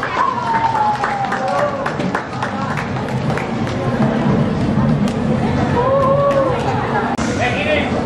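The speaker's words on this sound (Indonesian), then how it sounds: "Tepuk tangan untuk semuanya." Audience applause at an Islamic speech contest for Hari Santri at a madrasah, dense clapping blended with crowd chatter and voices talking over it throughout.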